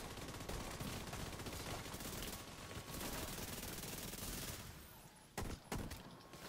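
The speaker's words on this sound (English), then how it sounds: "Oh, you gonna hit me with a shotgun?" Video game gunfire rattles in a dense, continuous barrage, then two sharp, separate shotgun blasts ring out near the end.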